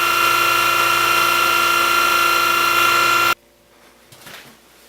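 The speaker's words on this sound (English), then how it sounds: "the hydraulic unit is pushing it in and out of the pattern" A tracer lathe driven by a hydraulic unit cuts metal while the stylus follows a pattern, a loud steady whining hum that stops abruptly, leaving a quiet room with faint clatter.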